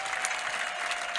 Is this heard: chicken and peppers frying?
no